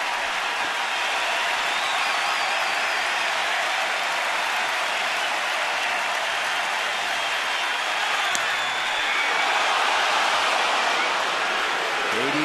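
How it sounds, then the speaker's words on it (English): A large baseball stadium crowd of about 30,000 roaring steadily with the bases loaded, a broad continuous wash of cheering that holds loud throughout and swells slightly near the end. "The crowd is into it."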